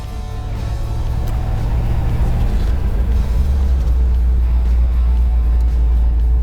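A 1963 Chevrolet Impala 409 convertible with a 425-horsepower V8 and four-speed manual gearbox, driving on a test track with a deep, steady engine rumble that swells slightly as it pulls, close and continuous, with no talking.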